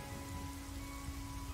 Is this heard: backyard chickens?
no